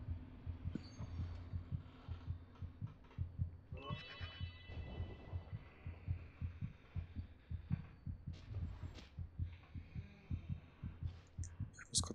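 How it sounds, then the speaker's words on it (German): Repeated low thumping heartbeat in the horror video game Among the Sleep, a steady throbbing pulse running throughout, joined by faint ringing tones midway. "Herzschlag ist nicht gut, glaube ich."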